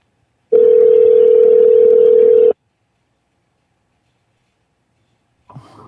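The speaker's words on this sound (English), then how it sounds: "I'm dialing the number." A telephone line during a call: a steady, loud electronic tone that holds for about two seconds and then cuts off, followed by silence and a faint sound at the end.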